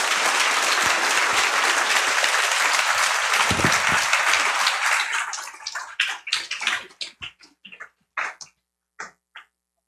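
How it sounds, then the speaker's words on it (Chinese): Dense applause from a seated audience thanks Academician Wu after a 2017 public salon talk on war and peace. It stays loud for about five seconds, then thins into scattered, isolated claps that die away. "给他一个很大的掌声"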